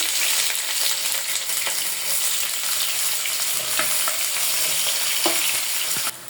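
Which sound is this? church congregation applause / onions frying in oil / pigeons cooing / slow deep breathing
onions frying in oil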